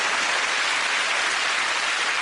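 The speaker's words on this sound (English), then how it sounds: "Round of applause." A studio audience on the QI comedy panel show claps in a dense, steady wash of applause that holds at an even level throughout.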